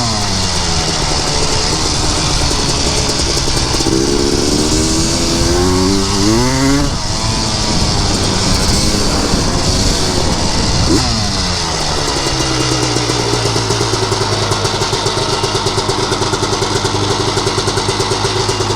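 A 250R ATV two-stroke engine with a serviced power valve and a possible jetting issue, running loud and close, revving up and down under throttle with rising and falling pitch, then settling into a steady high drone.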